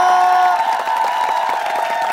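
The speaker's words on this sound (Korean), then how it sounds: "박수 부탁드리겠습니다." A Korean TV studio audience claps and cheers after a stage performance, a steady wash of applause and crowd noise with a sustained tone beneath.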